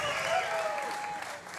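An arena crowd at a wrestling event, The Big One at Davis Arena, applauds in a steady wash of clapping and cheering, broad and sustained, with a voice partly audible beneath it.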